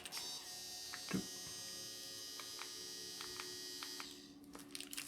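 An EZ Defender X tattoo machine running, a steady faint electric buzz and hum with a few light clicks over it, fading out near the end.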